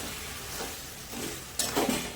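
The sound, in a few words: fish being sautéed in a pan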